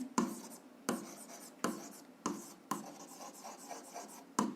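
Hand writing of a hydrostatic pressure formula, likely chalk or marker on a board for a physics lesson, in five distinct strokes with scratchy onsets and short decays, alone and fairly close.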